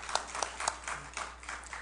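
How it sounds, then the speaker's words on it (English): A church congregation claps for high school students, with quiet, fairly distant scattered clapping that comes in soft irregular bursts and is faint overall. "Clap for our high school students"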